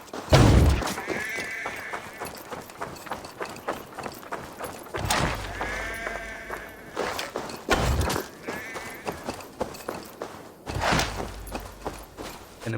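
Sheep in Assassin's Creed Valhalla bleat in several separate calls over a busy game soundscape of hoof clops and footsteps, moderately loud and spread across the scene.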